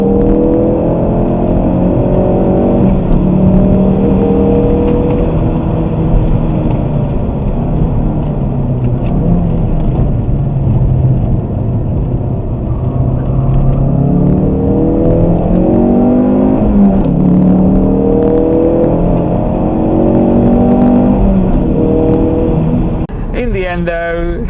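A Ford Focus RS pulls hard through corners while chasing a BMW M4, its engine droning loud and continuous with rising and falling pitch sweeps as it accelerates and shifts, under a voice talking throughout.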